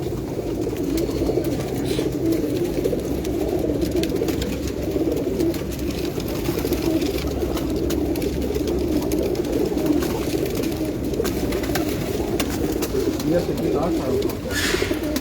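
Large pigeons coo steadily on a rooftop loft in a dense, continuous low murmur that lasts throughout. Nearby voices talk over parts of it.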